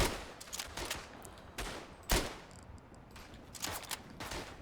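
Carbine fire in the World War I shooter Verdun: sharp cracking shots ring out at irregular intervals, a few louder and nearer amid distant scattered gunfire, with no speech.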